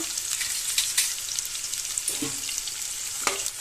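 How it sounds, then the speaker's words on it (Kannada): Chopped onion, garlic and ginger fry in hot oil, giving a lively close sizzle with a few stirring scrapes and clinks. There is no talk. "ಬೆಳ್ಳುಳ್ಳಿ ಮತ್ತು ಶುಂಠಿ ಹಾಕ್ಕೊಂಡು ಚೆನ್ನಾಗಿ ಫ್ರೈ ಮಾಡ್ಕೋಬೇಕೀಗ"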